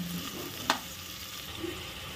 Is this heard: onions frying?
yes